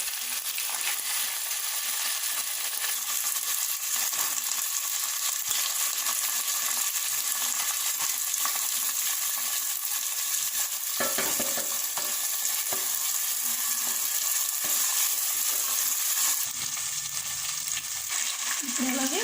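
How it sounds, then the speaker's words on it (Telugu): Peanuts sizzle and crackle steadily in hot oil in a pan while cooking for an amaranth leaf curry, with occasional stirring scrapes and no talking. "పచ్చి వాసన పోయేంత వరకు ఫ్రై చేద్దాం. ఇప్పుడు పల్లీలు వేసుకున్నాం."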